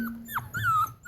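Dogs named Kirby and Blue whimper before feeding time: a few close, high, wavering whines rising and falling over a low steady hum, with a short drawn-out cry at the end.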